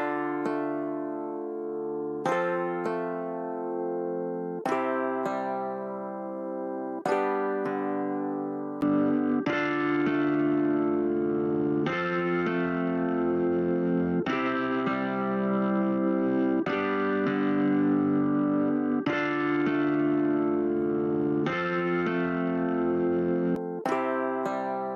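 Piano run through Black76 and SAT X plugins for AmpliTube 5, giving sustained chords a saturated, effected tone; a series of rhythmic struck phrases, loud and close with no talking.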